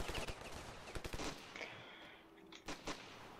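Rapid bursts of Uzi 9mm submachine gun fire in the video game Ravenfield crackle in quick clusters, with several sharp shots spread across the span.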